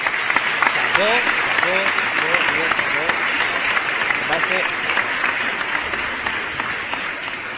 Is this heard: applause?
yes